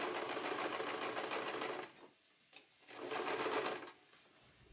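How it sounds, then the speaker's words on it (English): A sewing machine stitching fabric for tapestry blanket pants, running in a steady buzzing rattle for about two seconds, pausing briefly, then running again in a second close, loud burst. "Now you want to start off your sewing with a back stitch so you can lock in the stitch and then go forward after that."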